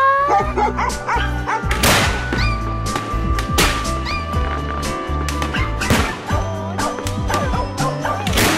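Dogs bark and yip repeatedly on a Thai dog-themed TV programme, sharp overlapping bursts over a busy, loud background.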